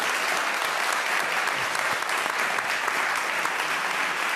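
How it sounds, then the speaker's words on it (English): A conference audience at The Social Prescribing Show 2022 gives a round of applause for international partners. The dense, even clapping stays loud and continuous throughout. "So a round of applause for our international partners for joining us today."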